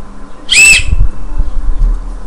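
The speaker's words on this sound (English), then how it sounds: "I have a whistle here." A single short, shrill whistle blast, loud and close, from a whistle built into a stainless steel knife sheath, followed by low handling thumps.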